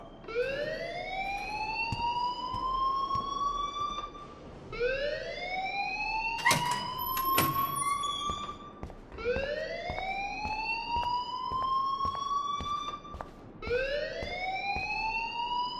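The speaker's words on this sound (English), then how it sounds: "please turn off that alarm since that's your job" A repeating electronic alarm in the video game Life Is Strange, sounding rising siren-like sweeps roughly every four to five seconds, loud and continuous, with a few sharp clicks between cycles and no talking.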